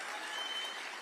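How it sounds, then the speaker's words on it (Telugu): Steady applause from a crowd at a Telugu political rally speech in Kukatpally, a dense continuous clatter of many hands at even loudness throughout the short moment, with no voices standing out. "గట్టిగా చప్పట్లు కొట్టాలి వాళ్ళకి"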